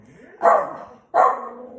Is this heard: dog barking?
yes